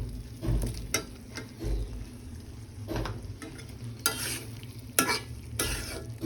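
Skins sautéed in a spice masala in a pan: a low steady sizzle broken by several sharp spatula scrapes and clinks, close and moderately loud.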